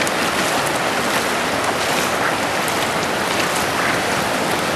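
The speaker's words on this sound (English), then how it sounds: "Look at the waves coming in on our beach." Dense, steady roar of ocean surf washing ashore at Myrtle Beach, loud and unbroken, with no voices over it.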